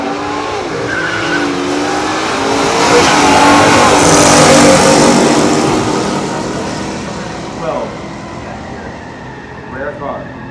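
A 1967 Chevelle SS396 L78 and a 1970 Plymouth Duster 340 run a pure stock drag race, giving a loud, sustained engine roar that swells and fades, with brief tire squeals near the end.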